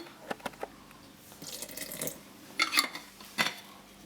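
Spring water from a well mix poured into a sourdough starter in a container, with a clear splash and trickle in the middle and a few light clinks and taps of a utensil against the vessel before and after.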